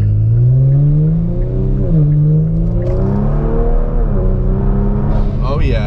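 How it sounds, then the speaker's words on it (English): A Kia Stinger GT accelerates on updated JB4 map 2 firmware, its engine drone rising in pitch in repeated pulls with a whirring turbo spooling up. The sound is loud and close, as heard from inside the car. "The turbo noise, I can hear the turbo spooling up way quicker, like right away almost."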